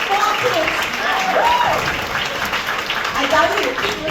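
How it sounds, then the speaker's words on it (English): Audience applause at a motivational business talk, steady crowd clapping with a voice speaking over it. "let's give a round of applause to my upline, Mel"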